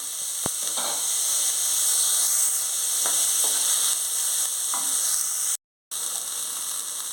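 Dried prawns and onions sizzle steadily in a non-stick pan. A few soft stirring scrapes sound over the constant frying hiss, with one brief gap.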